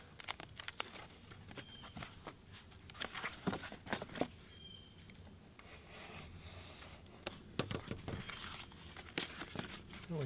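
Cardboard pieces being cut and handled for a ballistics target box: irregular crinkling, tearing and sharp rustling bursts close up, scattered over a quiet background with no speech.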